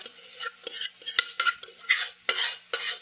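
A utensil stirs fried coconut and cooked moong dal in a pan, making close, rhythmic scraping strokes about every third of a second with no voices.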